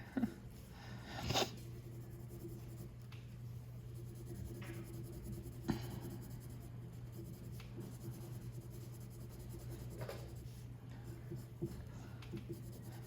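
Colored pencil shading a cube drawing on paper, continuous scratchy strokes with a few sharper taps, close and quiet over a low background hum.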